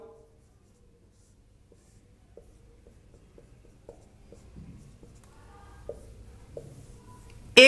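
Chalk or marker strokes on a classroom board as a physics teacher writes formulas, faint scratchy taps and short strokes at an irregular pace, quiet and close, ending with a louder bump.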